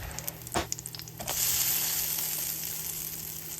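Cornmeal fritters frying in a pan, a gluten-free batch: a few light clicks give way to a loud, steady sizzle that hisses continuously close by.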